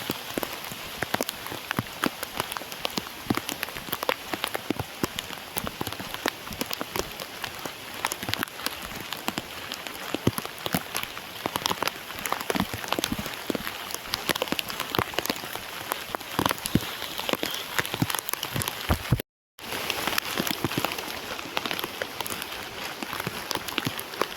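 Heavy rain pours steadily over a village, a dense, even hiss of drops hitting surfaces that lasts throughout, broken only by one very brief dropout.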